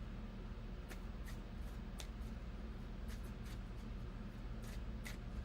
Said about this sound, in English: for Vicki, it wants me to keep shuffling.